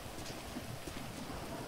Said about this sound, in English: Look at the rain.